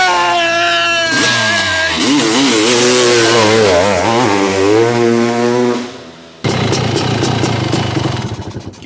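A 2023 Honda CR500 AFL two-stroke motorcycle, a 25th-anniversary build, fires up and revs hard and loud and close, rising and falling in pitch, then drops briefly before roaring back in rough, crackling bursts.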